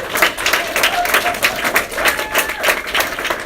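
Crowd at a congressional campaign office opening giving a volunteer a round of applause, lively close clapping from many people over a few seconds.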